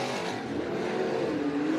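Race car engines drone and rise in pitch as the cars lap Bakersfield Speedway during a heat race, a continuous loud mid-distance roar building toward the end.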